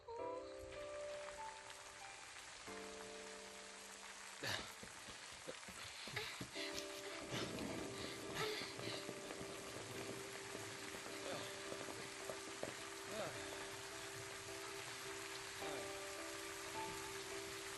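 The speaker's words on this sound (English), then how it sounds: "When it rains around here, it pours. And then it rains some more." Heavy rain pouring in the Final Fantasy XIII video game, a steady dense hiss of falling water with scattered splashes throughout, under faint tonal game music and occasional effects, no voices.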